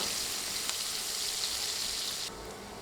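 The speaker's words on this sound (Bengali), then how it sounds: "মিডিয়াম আঁচে পেঁয়াজ নেড়ে নেড়ে ভেজে নিব" Sliced onions sizzle over medium heat in leftover fish oil while being stirred, a steady, soft crackling hiss with a faint clink partway through.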